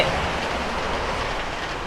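Steady rain falling outdoors, a constant broadband hiss and patter with even loudness throughout, heard alone without voices.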